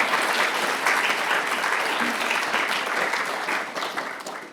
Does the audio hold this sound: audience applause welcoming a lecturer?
yes